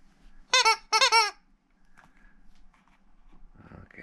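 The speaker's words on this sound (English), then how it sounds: "Here's the squeaky toy." Dog's squeaky toy gives two sharp, loud squeaks in quick succession, followed by soft rustling and faint movement noises nearby.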